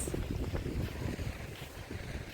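Sea surf on the Odesa shore on a windy December day, a steady low roar of waves with gusts of wind buffeting the microphone, no voices.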